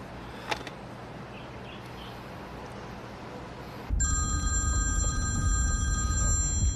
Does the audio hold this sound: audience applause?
no